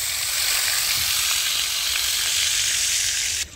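Marinated chicken pieces frying in fully heated oil over medium heat, a dense continuous sizzle and hiss close up, cutting off abruptly at the very end.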